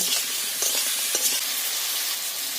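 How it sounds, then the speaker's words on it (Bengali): Bottle gourd fries in a pan with salt and a little turmeric, a loud, continuous hissing sizzle close up with faint soft stirring taps underneath and no talking. "এবার নেড়ে চেড়ে নিচ্ছি"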